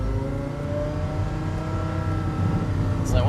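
A Porsche Carrera GT pulls away on track, its engine note climbing steadily through the revs in a loud, close harmonic whine, with no talking over it.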